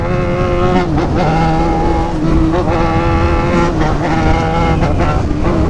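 A loud Yamaha XJ6 motorcycle engine revving continuously with rising and falling pitch as it shifts through gears, steady and close throughout.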